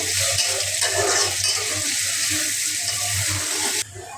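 Chopped onion and green chilli are stirred in hot oil in a pan, a loud close steady sizzle with rhythmic scraping strokes and a low hum underneath, dropping slightly in level just before the end.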